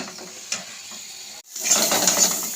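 Ingredients frying in hot oil at medium heat for Punjabi chicken, a steady close sizzle with light stirring clicks, briefly cutting out and then returning louder and brighter.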